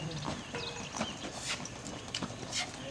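A horse's hooves clip-clop in a steady walking rhythm close by during a first ride at a trainer's, with faint voices now and then.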